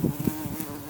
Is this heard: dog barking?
no